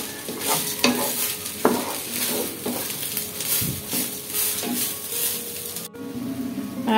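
Rice and four green chillies fry in a hot pan with a steady sizzle while a spoon stirs and scrapes them in repeated, irregular strokes; nobody talks.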